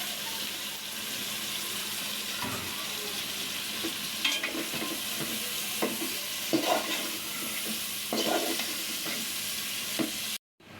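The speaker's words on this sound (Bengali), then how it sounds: "এখন ফুলকপিগুলো দিয়ে দিব।" Cauliflower florets sizzling and frying with spiced potatoes in a pan, steady broadband hiss with intermittent scraping stirs and clinks, close and moderately loud, ending abruptly.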